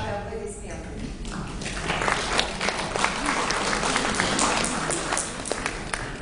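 Applause from an audience at an art club meeting with a painter, a dense, moderately close round of clapping that starts after a short voice and continues steadily, with some talking underneath.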